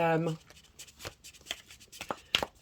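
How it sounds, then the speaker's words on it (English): A deck of tarot cards is shuffled by hand in a series of crisp, papery riffles and clicks; a brief voice opens the moment before the shuffling carries on alone. "I'm going to shuffle a little bit more"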